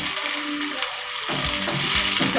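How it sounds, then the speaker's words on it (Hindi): Okra and tomatoes frying in a pan, a steady close sizzle with faint stirring clatter throughout, no voices. "जैसा कि आप देख सकते हैं टमाटर फ्राई हो रहे हैं"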